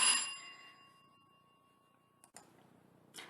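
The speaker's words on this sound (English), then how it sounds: "Sorry about that, was my doorbell." A bright electronic bell chime rings once and fades slowly, followed by a couple of soft clicks and a brief rustle.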